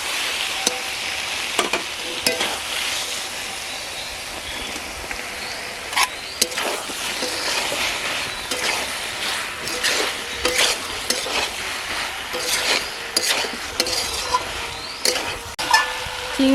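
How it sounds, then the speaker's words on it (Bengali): Young jackfruit stirred into frying spice paste in a pan, with a continuous sizzle under repeated scraping and clacking of a utensil against the pot, in irregular strokes close at hand. "এখন আমি ইঁচড়টা দিয়ে দেবো।"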